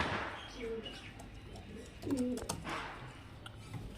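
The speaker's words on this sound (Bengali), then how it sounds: "এই যে দেখতে পাচ্ছেন ফ্রেন্ডস কোয়ালিটি দেখুন পায়রা" Kalshira pigeons cooing in a loft, soft low coos and a brief throaty burst near the middle over faint background murmur and light chirps, fairly quiet.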